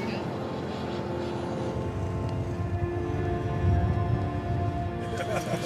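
Steady roar of an airplane cabin, with a constant low engine drone and hiss filling the whole stretch, loud and close throughout.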